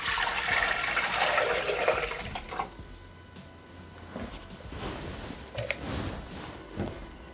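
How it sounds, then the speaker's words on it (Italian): Water is poured into a Thermomix mixing bowl for a farro salad recipe, a steady splashing fill at close range that tapers off into quieter trickles and drips, with no talking. "Iniziamo la ricetta mettendo all'interno del boccale l'acqua."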